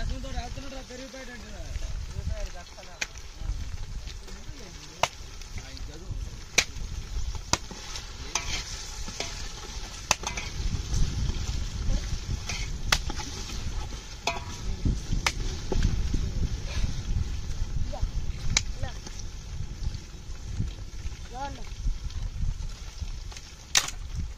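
Chillies and ginger paste stirred and fried for a village-style Guntur chicken curry: steady close sizzling with repeated spoon scrapes and knocks against the pan, under intermittent talk.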